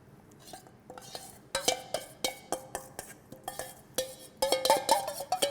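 Strawberry puree, powdered sugar and brewed hibiscus tea are stirred together for a sorbet, a utensil clinking and scraping against a bowl in a quick rhythm, close and moderately loud.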